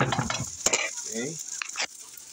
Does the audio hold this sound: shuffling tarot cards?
no